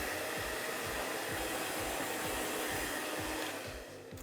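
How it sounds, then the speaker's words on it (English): A hair dryer blows air onto the hair roots to add volume while styling wavy hair, a loud steady whooshing roar that holds constant and eases off slightly at the very end, with no voices. "We don't need to blow dry too much, just very quickly to give that extra lift."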